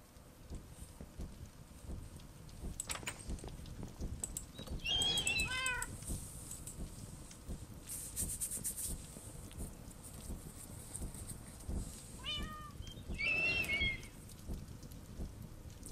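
A cat meows in two separate bouts, each a short run of rising and falling calls, set against a steady wash of rain and light wind.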